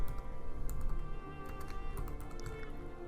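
Fingers type on a computer keyboard while filling in an email subject line, with quick irregular soft key clicks close by over a steady hum and no talk.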